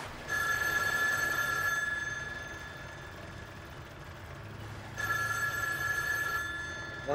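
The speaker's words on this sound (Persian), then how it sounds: "تلفون زنگ میزنه." A telephone bell rings in two bursts with a pause between them, fairly faint over a low engine-like hum, with no talk.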